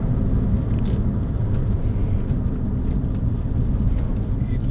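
A 2006 Toyota MR2 1.8 VVT-i roadster on the move gives a loud, steady low rumble of engine and road noise with wind buffeting, continuous and unchanging from inside the car.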